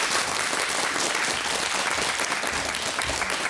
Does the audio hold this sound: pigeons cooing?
no